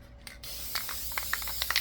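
A spray can sprays satin sealant in a short burst of close hissing, followed by several faint clicks and rattles of the can, with no talking.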